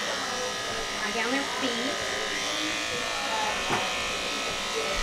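Electric clippers buzz steadily and continuously while shaving an animal's surgery site on a surgery board, a close droning hum running under a person's speech.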